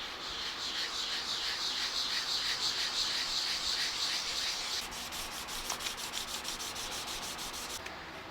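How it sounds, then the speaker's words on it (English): A guitar body under steady, even back-and-forth rubbing with a 320 grit flexible sanding block, continuous close scratchy friction with a brief change in stroke partway through, no voices. "I've got some 320 grit put on this flexible sanding block"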